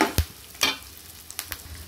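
Chicken 65 frying in oil while being stirred, with sharp scraping clatters of the spoon against the pan over a faint hiss, three or four distinct strokes in quick succession.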